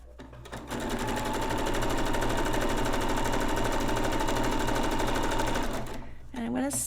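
A hand-cranked sewing machine stitches through canvas in a steady, rapid mechanical rattle that runs continuously for several seconds, close and loud, then slows and stops as a voice begins.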